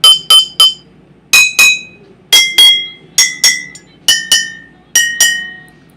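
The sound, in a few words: glass bottles with different amounts of liquid struck, varying pitch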